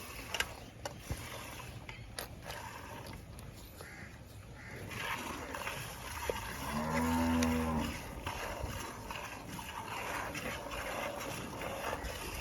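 Buffaloes on a dairy farm, with one giving a loud, drawn-out moo of about a second in the middle, set against faint clattering and farmyard background noise.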